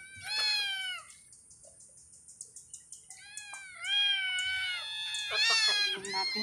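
Several cats meow in a home where rice is being fed to them, with repeated clear meows near the start and a cluster of louder, overlapping calls toward the end, separated by softer faint sounds.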